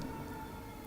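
A steady siren tone holds at one pitch throughout, faint and distant, like an emergency vehicle passing somewhere outside.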